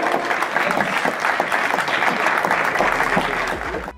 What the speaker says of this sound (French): Je vous demande un tonnerre d'applaudissements pour Dizon.